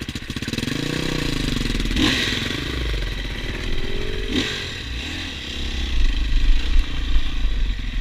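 A motorcycle engine idles with a steady low rumble, its throttle blipped a couple of times before revving harder and louder toward the end.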